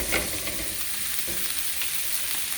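Tomato wedges sizzle in a pan with onions and garlic for a Vietnamese crab noodle soup, a steady, even hiss with faint stirring clicks, close and continuous without talk.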